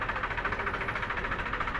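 A 2012 Mahindra 575 tractor on MRF tyres idling close by at a tractor market, a steady low rhythmic chugging knock with no talking.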